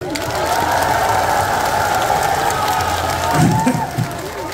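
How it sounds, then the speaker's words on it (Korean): An audience claps steadily through the whole stretch, a dense, even patter of many hands at a lively event, with a faint voice and a brief louder flurry near the end. "이 박수라는 것은 받는 사람이나 치는 사람이나 다 좋은 것 같아요"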